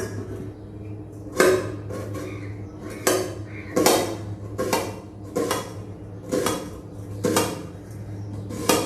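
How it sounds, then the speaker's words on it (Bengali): A knife chops onions against the underside of a plate, each cut landing as a sharp clack or clink in an irregular, unhurried rhythm of about a dozen strikes, loud and close, with no talking. "পেঁয়াজ কাটার জন্য চলে আসছি, আমার তো বোর্ড নাই, আমি প্লেটের তলা ব্যবহার করবো।"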